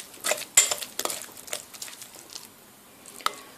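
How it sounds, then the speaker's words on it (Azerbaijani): Spoon stirring a yogurt, oil and flour dough mixture in a bowl for walnut kata pastry, with soft close scrapes and a few light clinks against the bowl, fading quieter toward the end. "Əvvəlcə qaşıqla qarışdırıram."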